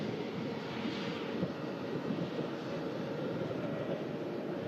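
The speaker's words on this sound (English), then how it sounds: "A320neo from EasyJet on the way out to Milan" An EasyJet Airbus A320neo departing Manchester Airport for Milan makes a faint, distant, steady jet roar with a wind-like rumble throughout.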